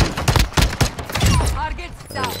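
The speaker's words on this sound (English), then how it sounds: "We got niggas shooting." Gunfire in a Call of Duty Resurgence match, a cluster of sharp shots with irregular spacing, close and loud, with someone talking over the later part.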